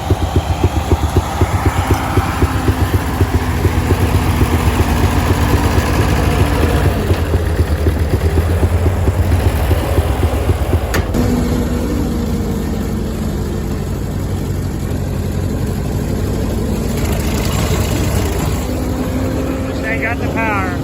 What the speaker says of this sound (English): we're gonna try to get this throttle revving up and see if we can get some more power out of the old